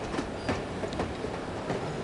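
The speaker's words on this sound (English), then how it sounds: "I love riding the train." A train rolls along the rails in the video game No One Lives Forever, a steady rumble with regular clickety-clack wheel beats repeating every half second or so, close and continuous.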